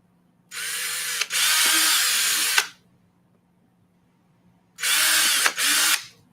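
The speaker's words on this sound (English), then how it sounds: "I just eyeball it and start drilling." A handheld power drill bores into moon shoe skate parts, two close, loud bursts of whirring motor with brief pauses and restarts in between, separated by a quiet gap.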